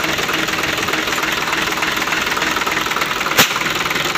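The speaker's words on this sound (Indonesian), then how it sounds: "ini mesin sudah kita hidupkan" A Hino Lohan 500 truck diesel engine runs steadily after starting during injection pump seal repair work, a continuous loud rumbling idle with one brief sharp click near the end.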